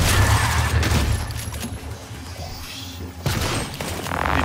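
Shotgun blasts ring out in the video game Prey, with a few loud, booming shots and crashing impacts up close among a dense clatter of game effects.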